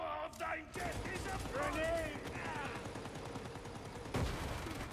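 Machine gun fire in the video game Warhammer 40K Darktide rattles in fast bursts under a busy mix of game noise, while players talk over the shooting.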